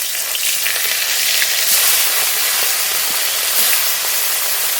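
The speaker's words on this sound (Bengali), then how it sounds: "মাছ খুব ভালো করে ভেজে নেব।" Fish frying in hot mustard oil in a wok gives a loud, steady sizzle and hiss, with occasional sharp pops and spits breaking through the constant crackle.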